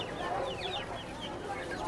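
A chicken clucking at a busy poultry market in Tongi, Bangladesh, with short nearby clucks over a steady murmur of crowd noise.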